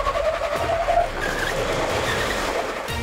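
A 4WD's tyres spin against rocks on a night run at Lithgow, giving a loud, continuous grinding roar of slipping rubber and engine strain that holds steady to the end.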